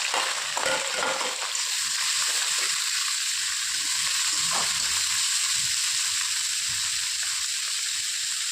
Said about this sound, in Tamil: பச்சை மிளகாய் தெரிக்கிறதுனால வெங்காயத்தையும் போட்டலாம்